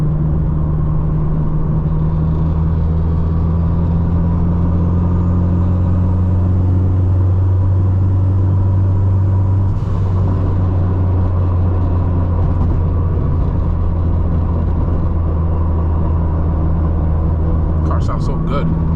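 A 600 HP Honda Civic Si engine drones loudly and steadily from inside the car, a constant low rumble with a brief surge partway through.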